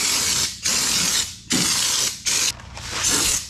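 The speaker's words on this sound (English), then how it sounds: "Once you start spraying, you're pretty much spraying until it's all gone." A spray gun applies Raptor bed liner to a Honda Pioneer 700-4 in loud, steady bursts of hissing spray, each about a second long, separated by brief pauses.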